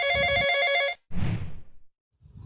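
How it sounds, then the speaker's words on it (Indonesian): A mobile phone rings with a loud electronic ringtone made of bright, repeating tones for about a second, then a burst of noisy rustle follows and fades to a short silence. "HP Kopi berbunyi"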